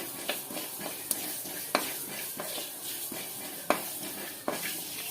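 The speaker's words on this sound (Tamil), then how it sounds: "அடுத்தது கடுகு நம்ம வறுத்துருவோம்." Crackling pops and sizzles from mustard seeds roasting in a hot pan, with irregular sharp bursts over a steady frying hiss.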